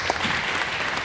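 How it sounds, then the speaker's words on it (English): Audience at a depression and mental health talk applauds a guest, a dense, steady wash of clapping from a roomful of people throughout. "A round of applause"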